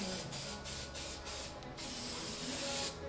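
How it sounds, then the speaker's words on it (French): A spray paint can hissing in a series of short bursts, several quick sprays and then one longer continuous spray, close and steady. "je fais plein de couleurs moi à la bombe"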